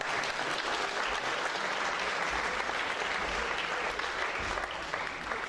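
Sustained, steady applause from an audience at a rugby ceremony, dense clapping at even loudness throughout with no talk over it.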